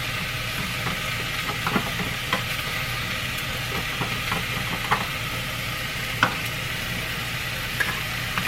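Chopped onions sizzle and fry in a pot for taco soup, a steady close crackle broken by scraping stirs of a spoon against the pan, with no voices.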